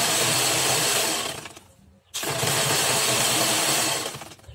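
A sewing machine set aside for perforating paper receipts runs in a steady, loud whirring burst, stops briefly, then runs again for a couple of seconds before tapering off.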